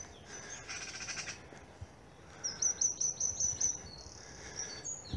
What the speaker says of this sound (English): Can hear the chatter of the magpies now.